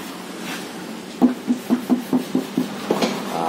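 Someone knocks on the thin, tinny metal body of a 1984 Toyota Corolla GL in a paint shop, giving a quick series of about eight hollow raps over a steady background hum.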